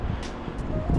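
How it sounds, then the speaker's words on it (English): A strong gale gusts across an outdoor fishing spot by the water, producing a steady, loud broadband rush with buffeting bursts against the microphone throughout. "It is blowing a gale."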